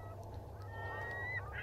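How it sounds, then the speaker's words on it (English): Ducks quacking near a pond beside a bus depot, a steady run of honking fowl calls over a constant low hum, moderately faint, no talking. "I can hear a duck quacking."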